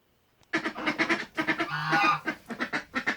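Poultry clucking and squawking in quick, busy bursts, fairly close, with one brief honk-like call in the middle.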